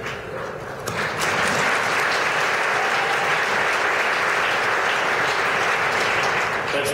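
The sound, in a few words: applause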